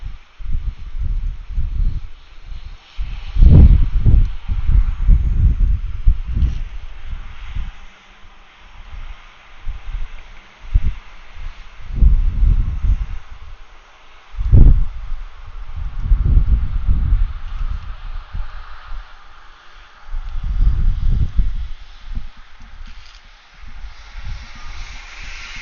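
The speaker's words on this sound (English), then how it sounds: "Getting a little windy here." At a plane-spotting location at Atlanta airport, gusty wind buffets the microphone in repeated deep rumbling bursts that rise and fall over a soft background hiss.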